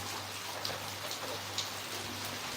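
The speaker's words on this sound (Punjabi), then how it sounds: "ਮੀਂਹ ਪਈ ਜਾਂਦਾਗਾ" Heavy rain in Dhuri pours down in a dense, steady hiss, with a faint low hum underneath and no voices.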